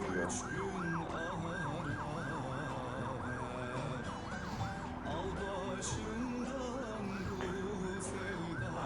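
An ambulance siren wails in fast repeating up-and-down sweeps, steady and fairly loud, over a low rumble of road traffic.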